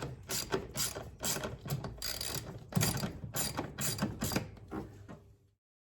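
Ratchet with long extensions loosening headlight screws on a 2015 Chevy Silverado 1500 LT, giving quick bursts of close, sharp clicking in uneven strokes before stopping, no talk.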